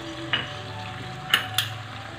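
Pasta is stirred into a white sauce in a pan, with a soft simmering hiss and three brief scraping clinks of a spoon against the pan, close by.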